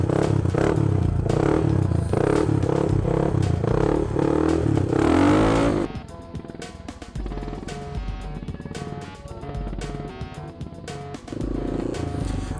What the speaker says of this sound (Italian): Quindi adesso facciamo un'impennata.